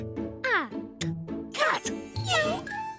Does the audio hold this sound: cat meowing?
yes